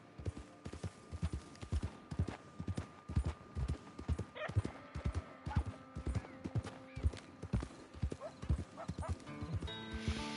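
Horse hooves clip-clop in a steady, loud rhythm in the Red Dead Online video game, with occasional whinnies and faint game sounds between the footfalls.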